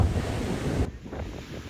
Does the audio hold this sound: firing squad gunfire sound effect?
no